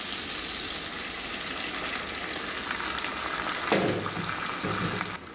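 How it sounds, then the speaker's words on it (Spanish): Water left from boiling chiles is poured into a hot frying pan for a beef birria sauce, giving a steady sizzling hiss that swells with a brief splashing gush near the end. "Le vamos a poner un poquito de agua, del agua donde hirvieron los chiles."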